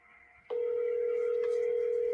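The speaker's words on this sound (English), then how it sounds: "All right, Mert, I'm just going to give you a call" A telephone call is placed: a steady, loud dial tone begins after half a second of quiet room sound and holds alone without a break.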